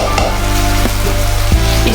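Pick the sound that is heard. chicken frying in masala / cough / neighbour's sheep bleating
chicken frying in masala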